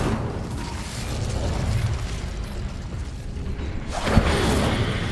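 An Incendio fire spell cast in Hogwarts Legacy, heard as a low rumbling, crackling roar that swells and then bursts with a sharp pop near the end, with no talking over it.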